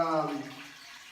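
Spring water pours into a container for a green leaf drink, a short bright gurgling stream whose pitch rises as the vessel fills, then tapers off.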